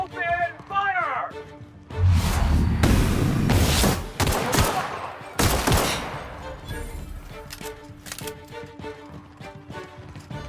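Sci-fi gunfire in The Outer Worlds combat, dense volleys of loud shots in two main bursts after a short stretch of talk, then trailing off into scattered quieter sounds.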